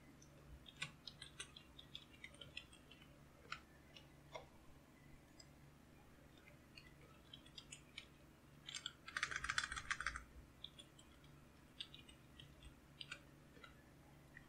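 Someone types a password on a computer keyboard, giving faint, close, irregular key clicks with a short fast flurry near the middle, and no talking.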